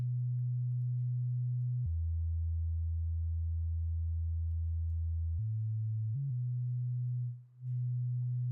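Sustained low synth tone whose timbre shifts in blocks as its filter cutoff is swept up and down, a steady drone with a brief dip near the end and no voices.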